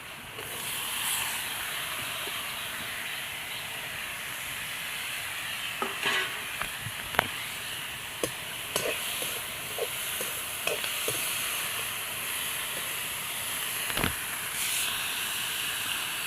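Cut snake gourd fries in a pan with cumin and fennel seeds under a continuous soft hiss, while scattered sharp scrapes and taps of a spoon mark the stirring.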